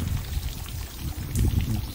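Water gushes and splashes steadily through water muffs fitted to a Johnson Fast Strike outboard motor, a close, continuous rushing flow with no talk.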